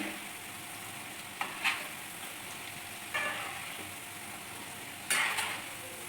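Mushroom kebabs fry in a pan with a quiet, steady sizzle, broken by a few brief bursts of scraping and stirring against the pan.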